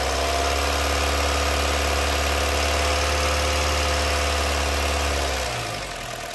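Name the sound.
Honda City 2014 petrol car engine revving with accelerator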